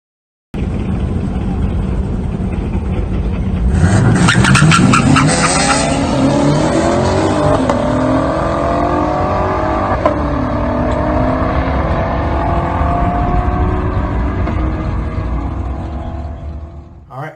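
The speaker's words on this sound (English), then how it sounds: "we got a pretty fast car here from Brent Thuman" A fast forced-induction seventh-generation Honda Accord roars past, engine revving hard and climbing through gears with a brief tire squeal, loud and close before fading into the distance.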